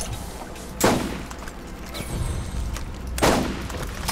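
Rocket launcher fire and explosions in the video game Borderlands: two sharp, loud blasts about two and a half seconds apart, with lighter bursts of gunfire and rumbling in between.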